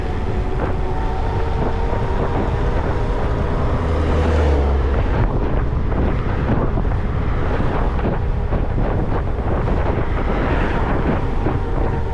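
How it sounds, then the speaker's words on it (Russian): Strong wind buffeting the microphone on a Crimean road trip near Ordzhonikidze, a continuous loud low roar and rumble with gusty surges throughout, no voices. "Капец ветер."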